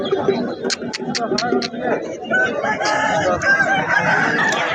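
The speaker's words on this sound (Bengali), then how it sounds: "এখানে একটা কালো চোখের মোরগ আছে দারুন" Rooster crowing and hens clucking at a busy village haat selling local chickens, with several short crows early on over steady crowd chatter and people talking nearby.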